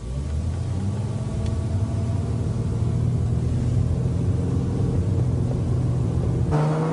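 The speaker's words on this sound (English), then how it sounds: "As you drive, let the transmission shift itself through the entire range." A Subaru SVX with automatic transmission drives along, its engine a steady mid-pitched rumble and whir inside the cabin, continuous and fairly loud, with a brief change near the end.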